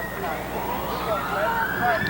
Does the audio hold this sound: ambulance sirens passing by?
yes